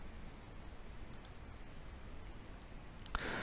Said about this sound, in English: So now we will click on send for approval.